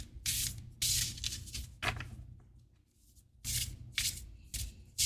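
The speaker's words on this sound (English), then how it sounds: "I'm gonna shuffle this way, a lot easier." Tarot cards being shuffled in several quick riffling bursts, close and crisp, separated by brief quieter pauses.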